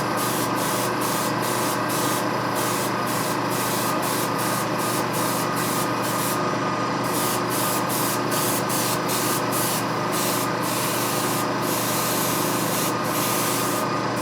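An airbrush sprays ultramarine blue paint, a steady close hiss that never stops, broken by rapid regular sputtering clicks as the faulty brush spits.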